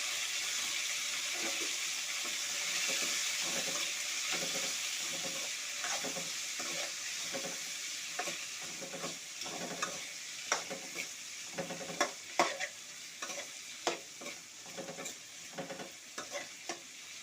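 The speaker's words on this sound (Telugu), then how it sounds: "దీంట్లో పచ్చిమిరపకాయలు, కొత్తిమీరాకు, టెంకాయ వేసి ఫ్రై చేసుకోవాలి." Green chillies, coriander leaves and coconut fry in a pan, with a soft continuous sizzle and a run of quick scraping stirs that grow louder and sharper toward the end. No one speaks.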